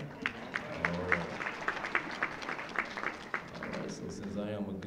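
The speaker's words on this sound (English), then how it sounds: "So can y'all just clap with me" Congregation clapping along in a steady rhythm at a church-style ecumenical prayer breakfast, with a preacher's voice and singing mixed over the handclaps.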